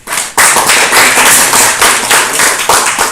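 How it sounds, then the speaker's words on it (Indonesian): Students in a vocational high school web programming class clap their hands together, a loud, close burst of group clapping that starts abruptly and continues in uneven, ragged waves. "tepuk tangan untuk"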